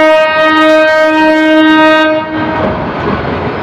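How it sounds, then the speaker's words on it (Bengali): The Surma Mail train sounds a loud, sustained horn up close as it passes, then the horn cuts off into a rumbling rush of wheels and carriages. "এই যে এটি একটি মিল ট্রেন।"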